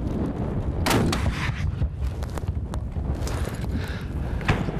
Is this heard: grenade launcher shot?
yes